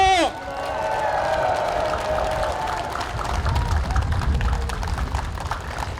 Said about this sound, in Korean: 믿으시면 큰 박수와 함성으로 힘 한번 실어주십시오.